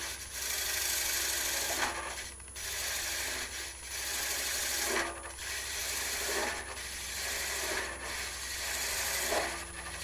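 A wooden Easter egg turning on a lathe as a tool shaves wood away, making a steady close rasping hum that swells and drops in several passes, with short pauses between them.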